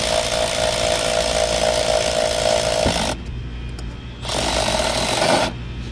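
A power driver spinning on a stuck bolt of an office air conditioning unit, which turns freely without coming out: a loud, close, continuous whine that drops out briefly twice, with no talk.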